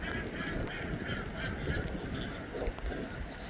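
Ducks on a small farm quack faintly through steady background noise, with scattered short calls and no clear voices.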